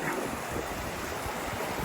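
Steady rushing water flowing under a bridge fills the clip, a broad continuous wash with a breezy, wind-buffeted edge, close and fairly loud, with no voices.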